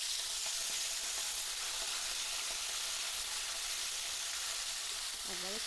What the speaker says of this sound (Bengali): এবার নুন হলুদ মাখানো মাথাগুলো আমি তেলের মধ্যে দিয়ে দেবো।